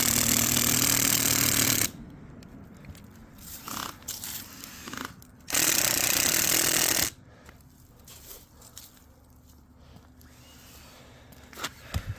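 A power drill with a long quarter-inch bit whines loudly in two bursts of a couple of seconds and about one and a half seconds while opening pool safety cover anchors, with clanks and handling noises in between.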